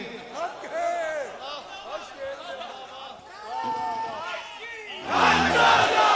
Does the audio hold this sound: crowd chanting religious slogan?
yes